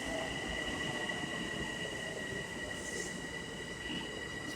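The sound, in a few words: M7 commuter train arriving at station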